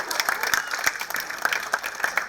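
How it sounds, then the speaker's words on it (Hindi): An audience at a radio festival session claps for two performers, a brief burst of moderately loud applause with distinct sharp hand claps repeating over a thinner crowd wash. "अभिनव और लकी के लिए आप लोग जोरदार तालियां और बजा सकते हैं।"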